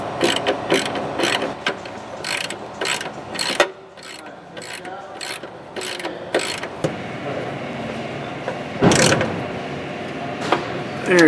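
A hand ratchet tightens the front strut bolts on a 2007–2014 Ford Edge with quick, rhythmic clicking in repeated runs, close up, pausing briefly between strokes.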